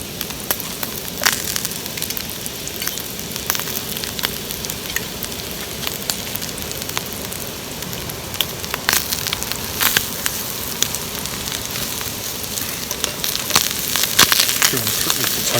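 Mushrooms fry in a pan over an open fire, a continuous close sizzle with scattered sharp crackles and pops throughout, without talk.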